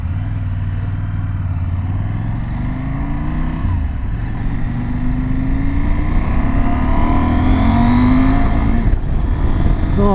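A 2019 KTM 790 Adventure motorcycle with its LC8c parallel-twin engine pulls away on the road, engine note climbing through several rising gear pulls, loud and close with wind noise.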